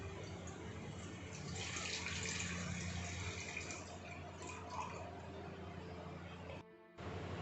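Water from a bottle pours steadily into a pan set up for steaming dhokla, a continuous splashing rush that runs for several seconds before cutting off abruptly near the end.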